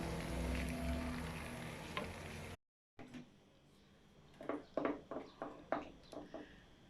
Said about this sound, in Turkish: Üzerine şimdi böyle yağ kestiriyoruz tereyağı.